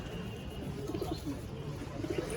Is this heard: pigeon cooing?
yes